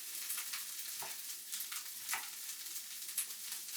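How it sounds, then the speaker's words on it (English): Vegetables sizzle and crackle in a hot pan, a continuous frying hiss with a few louder pops and spits, close and fairly quiet. "You hear the sizzle."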